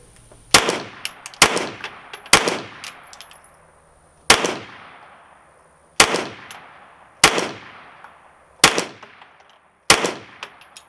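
Single gunshots from a gun with a drum magazine, fired outdoors at a target: eight sharp, loud cracks spaced about a second or more apart, each with a ringing decay, no talking.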